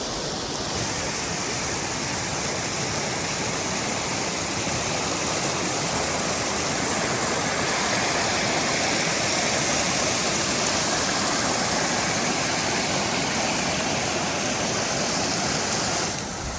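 Loud, constant rushing of the Zigzag River on the Pacific Crest Trail, a dense roar of flowing water that stays even throughout with no voices.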